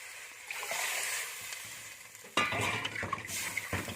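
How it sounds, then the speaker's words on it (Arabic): Potatoes fry quietly in a pan until water is poured in, setting off a sudden, louder hiss and bubbling sizzle that continues to the end, with faint clinks of cookware and no talking. "وبعدين ننزل بالميه اهي زي ما انتم شايفين دلوقتي"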